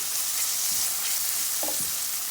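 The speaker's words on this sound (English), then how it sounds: "I just added my onion, and I'm gonna let it soften up a bit" Onion softening in a pan for a salt fish stew, giving a steady soft sizzle throughout with a few faint stirring clinks; no talking.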